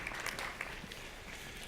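Audience applause for a volunteer at a conference session, a faint, steady spread of clapping heard from a distance.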